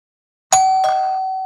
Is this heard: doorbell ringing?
yes